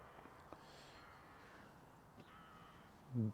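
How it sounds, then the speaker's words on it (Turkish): A crow caws a few times, fairly faint and distant, over a quiet outdoor background with a brief low thump near the end. "Garga da yukarıda ötüyor. Garga kvak kvak yapıyor."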